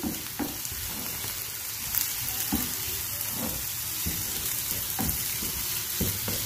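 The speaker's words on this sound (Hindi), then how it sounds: "प्याज ऐड करने के बाद अब मैं इसको सॉसे कर लूंगी" Chopped onions sautéing in a pan for a pizza bread sandwich, a steady close sizzle and hiss with occasional soft stirring scrapes, alone without talk.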